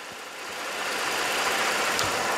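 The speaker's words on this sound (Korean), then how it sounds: "일단 엔진 소리 한번 바로 들려드릴게요." A used Mercedes-Benz E350 4MATIC sedan, over ten years old, idles with the air conditioning running, a steady, smooth engine hum that swells slightly at the start and then holds even, with no talking.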